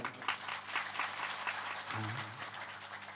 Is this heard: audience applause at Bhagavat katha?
yes